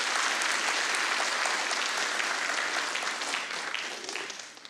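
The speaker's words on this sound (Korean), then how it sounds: "한번 뜨거운 박수로 격려해 주시기 바랍니다" A church congregation at a Sunday worship service gives warm applause, a full, even wash of many hands clapping at once that holds steady, then thins and fades toward the close.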